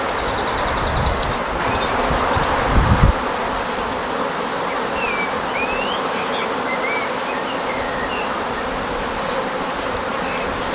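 Honey bees swarm around an open hive during an inspection, a dense continuous buzzing close by with a few faint bird chirps and a brief knock early on.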